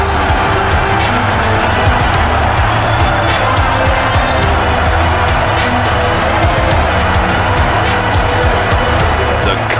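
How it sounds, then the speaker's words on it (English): A basketball arena crowd roars in sustained, loud cheering after a go-ahead shot in a Maccabi Tel Aviv game against Spanish opponents, a dense continuous wall of noise with no pauses. "The crowd goes wild."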